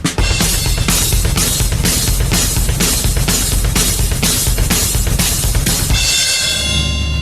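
Metal drum groove with rapid sixteenth-note double bass drum rolling under snare upbeats and hi-hat, about eleven even snare strokes played alone, close and loud, ending on a ringing cymbal crash.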